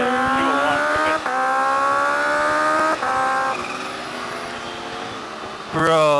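A 2019 Kawasaki H2 Carbon motorcycle winds up through the revs in loud, rising whines, broken by quick gear shifts and then climbing again sharply at the end.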